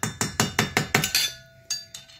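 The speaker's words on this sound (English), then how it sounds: "Take our flathead screwdriver. Should be a chisel, but hey, universal tools, right? So we're going to go ahead and tap this kind of flat." A flathead screwdriver taps a washer flat during gear oil service on a Mercury outboard motor, giving six rapid metallic clinks followed by two spaced, ringing taps, close and clear.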